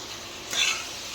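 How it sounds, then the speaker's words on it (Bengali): Prawns frying in a pan with turmeric and Kashmiri chili sizzle steadily, with two short scraping bursts of stirring breaking through the crackle. "ভালো করে নেড়ে চেড়ে ভেজে নিচ্ছি চিংড়ি মাছগুলো"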